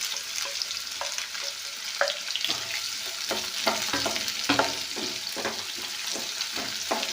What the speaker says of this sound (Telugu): ఇందులో ఆనియన్స్ సన్నగా తరిగి పెట్టుకున్నటువంటి ఆనియన్స్ వేసుకోండి.